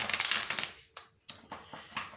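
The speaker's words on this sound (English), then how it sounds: "So let me shuffle these cards real quick." A deck of playing cards being shuffled, a dense run of crisp riffling flutter up front followed by several sharp separate snaps and taps, close and alone.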